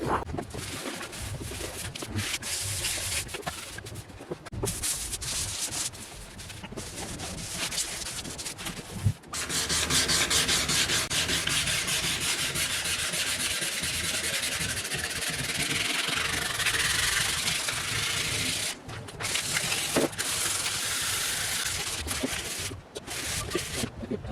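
Wet sanding of an oxidized, yellowed junkyard headlight lens with 500 grit paper, a steady close scratchy rubbing that runs continuously with brief pauses and no talk.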